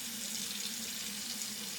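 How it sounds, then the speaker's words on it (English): Tap water runs steadily into a bathroom sink during a morning face wash, a continuous close splashing hiss that fills the whole stretch with no talking over it. "I don't know if you can hear me over the water, so we'll turn that down a little bit."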